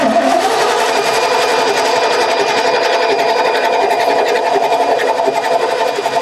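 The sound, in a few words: 1989 Ford F150 starter cranking engine, bad start solenoid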